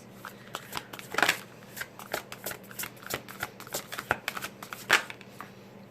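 Mystical Shaman Oracle cards being shuffled for a tarot-style reading, a steady run of crisp riffling flicks and papery slaps, close and fairly quiet, with no voices.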